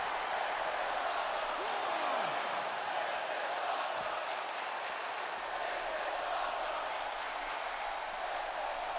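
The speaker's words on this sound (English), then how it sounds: "The crowd enjoying this opener." Wrestling arena crowd in WWE 2K22 keeps up a steady, dense roar of cheering for the whole stretch, with faint whooshing impact sounds underneath and no clear voices above the din.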